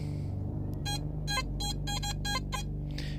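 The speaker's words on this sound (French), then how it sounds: "Désolé, j'ai pas éteint le pinpointer." Metal detecting pinpointer left switched on outdoors, giving a series of short, sharp repeated beeps over a steady low background rumble, close by and moderately loud.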